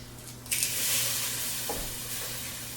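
Garlic frying quickly in a pan over lowered heat, a broad hissing sizzle that jumps up suddenly and then holds steady and close, with no voices.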